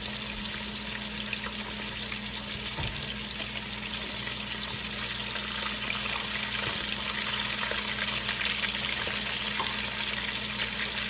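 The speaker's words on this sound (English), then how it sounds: "now I'm going to add the sauteed onions" Sautéed onions are added to a pan where ribeye steaks are frying, giving a steady, even sizzle with a faint low hum underneath and occasional soft knocks of utensils.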